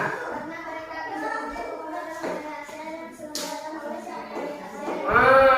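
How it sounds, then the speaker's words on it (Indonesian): Students in a classroom clap for a classmate who answered a question, a steady patter of hands mixed with children's voices and chatter, swelling slightly louder at the end. "Kasih tepuk tangan kepada kawannya."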